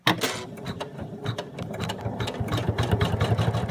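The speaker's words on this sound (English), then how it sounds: "you're ready to run your stitches for the satin stitch around the outside" An embroidery machine runs a satin stitch around the edge of an appliquéd fabric pony in a hoop, a steady, close, rapid mechanical whir that hums without pause.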